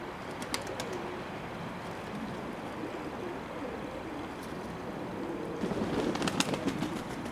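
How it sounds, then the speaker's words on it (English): Straight-tailed doves coo softly in an enclosure, low rounded calls repeating under a constant background hiss, with a few brief flutters and clicks and a slightly busier stretch near the end. "That's my pair of straight-tailed doves there."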